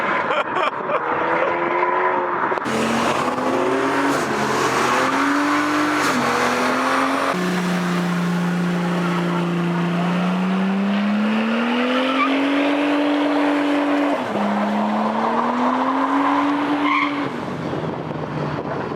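At a dockside car meet in Hull, a car spins its wheels with long, continuous tire squeal and a revving engine whose pitch rises and falls, loud and close throughout.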